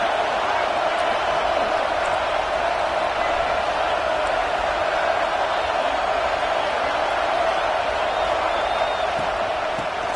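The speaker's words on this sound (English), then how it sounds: "Listen to this crowd just shaking the girders of this place" A huge stadium crowd at an American football game roars in a dense, unbroken wall of noise, loud and sustained for about ten seconds.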